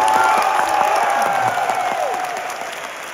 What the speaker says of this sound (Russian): Не совсем понятно, почему вы аплодируете.